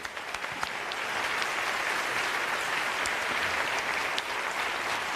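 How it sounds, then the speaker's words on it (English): An audience applauds a panel at a panel discussion, a dense, steady wash of many hands clapping together that holds evenly throughout. "please help me clapping this wonderful panel"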